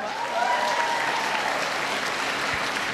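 Continuous applause from an audience at a direct-selling success talk, full and steady for a few seconds at moderate distance, with a faint tonal whine early on.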